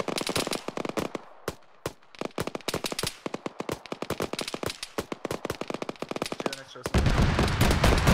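Rapid, heavy bursts of heavy machine gun fire in the video game Arma 3 crack in dense volleys, loud and close, ending in a sustained roar of noise.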